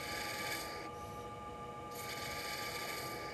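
Skew chisel tapering the top of a wooden bottle-opener blank spinning on a lathe, a steady close rasping, rubbing cut that briefly thins partway through, then resumes with a brighter hiss.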